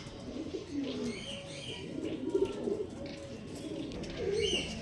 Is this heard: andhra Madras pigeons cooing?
yes